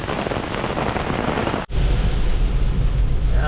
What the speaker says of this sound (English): Rain is pretty savage.